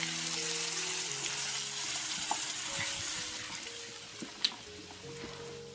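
Fish head and fish pieces cooking with onions in a pot as a can of beer is added, giving a steady, moderate sizzle with a few brief clinks and splashes toward the end.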